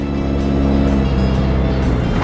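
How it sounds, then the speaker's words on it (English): Loud, steady engine drone of an enduro race car at a Night of Destruction demolition derby event, a continuous rough roar sustained close-up throughout with no break. "I'm driving a car that I shouldn't be driving in this event"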